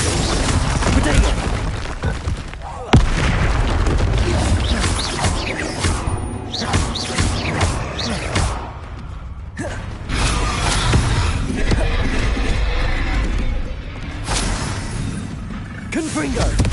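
Spell blasts and crashing impacts in Hogwarts Legacy combat, the fiery Confringo bursts landing repeatedly amid creaks, thuds and clatter, loud and busy throughout with a sharp hit near the start, under a voice calling out spells.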